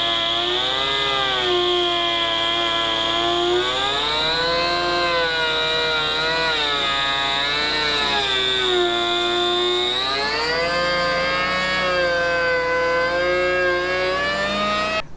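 An electric power planer with a worn power cord planes a timber beam for a timber-frame tie beam, giving a loud, continuous high whine for the whole stretch whose pitch sags and recovers as the blade bites under load.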